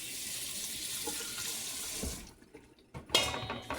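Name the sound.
rinsing mushrooms under running tap water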